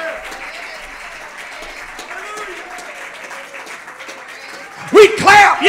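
A church congregation applauds in a sustained, even wash of many hands clapping in a large room, and a voice begins speaking over it near the end.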